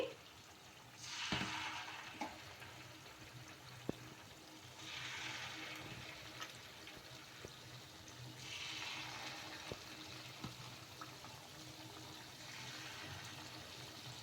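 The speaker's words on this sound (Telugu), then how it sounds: "మీడియం టు హై ఫ్లేమ్లో అడ్జస్ట్ చేసుకుంటే ఈ బొండల్ని ఇంకా ఫ్రై చేసేసుకోవాలి ఆయిల్లో" Jowar bondas deep frying in hot oil over a medium to high flame give a steady soft sizzle with louder bubbling bursts as pieces drop in, close and continuous, with no talking.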